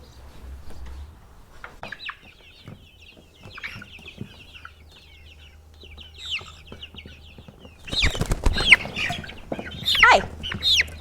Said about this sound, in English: So these 2 brooders contain the Dominique and the Java chicks that we hatched out this year from our flock.